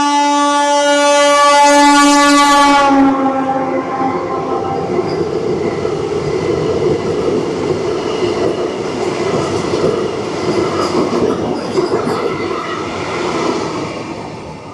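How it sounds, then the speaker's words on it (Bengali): The Katra to Srinagar Vande Bharat Express emerges from a tunnel: a loud two-tone horn blares for a few seconds, then a close, sustained rushing roar of wheels and carriages rolls steadily past. "ঝড়ের গতি নিয়ে ছুটে আসবে হচ্ছে ট্রেন নাম্বার 26403 কাটরা থেকে শ্রীনগর বন্দে ভারত এক্সপ্রেস"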